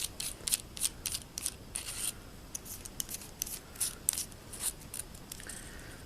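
Smith's diamond pocket sharpener is unscrewed up close, giving a series of short, crisp scraping clicks in an uneven rhythm over about six seconds, with no talk.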